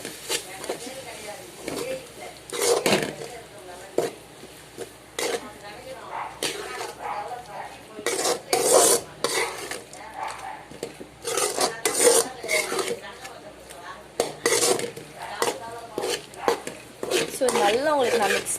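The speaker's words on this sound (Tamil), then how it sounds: "இதை நல்லா மிக்ஸ் பண்ணிக்கோங்க." Ground masala is stirred into mint pepper chicken in a pan, giving repeated scraping, rasping strokes of a spoon in an uneven rhythm, close up, while a voice talks over it.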